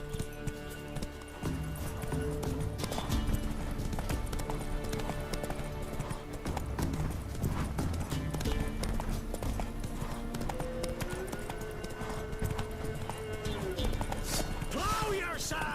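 A horse gallops in The Witcher 3, its hooves beating a fast steady clip-clop under a game music score with a voice urging it on.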